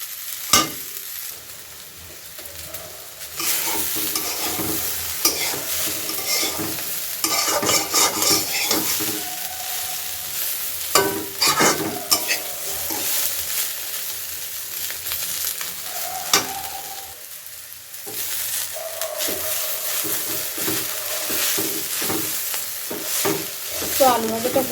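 Potatoes frying in a pan with fish, stirred by hand: a continuous close sizzle broken by repeated scraping and clinking of the utensil against the pan, with brief quiet moments between strokes.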